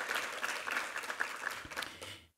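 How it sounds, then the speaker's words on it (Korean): A Korean church congregation at a Chuseok thanksgiving service gives a short round of applause, many hands clapping close and quick before fading out. "함께 한번 감사의 박수 한번 드리겠습니다."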